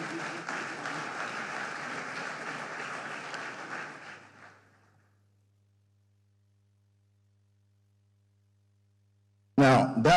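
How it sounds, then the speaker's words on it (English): At a Nigerian economic summit, an audience gives a round of applause that holds steady for about four seconds and then fades into silence. A short burst of sound returns right at the end. "So a round of applause for them again."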